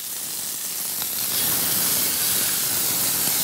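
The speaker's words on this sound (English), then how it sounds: "Plenty of sizzle." Meat, shiitake mushrooms and capsicum sizzle in a hot pan, a steady, close, loud hiss and crackle with no talk over it.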